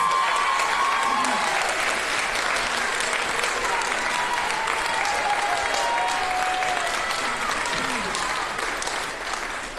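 A school audience at an elementary fourth grade promotion ceremony gives a standing fourth grade homeroom a long round of applause, dense and even throughout, with faint voices and cheers mixed into the crowd.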